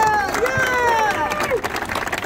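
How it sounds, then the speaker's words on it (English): A political rally crowd breaks into a round of applause and cheering for immigration enforcement officers, a dense wash of clapping with a few whistle-like tones over it, loud and close throughout the short burst. "Let's give them a great round of applause"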